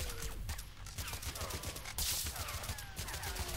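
Faint, rapid enemy gunfire from a looter in a sci-fi sandbox RPG, a busy rattle of shots running throughout at low volume.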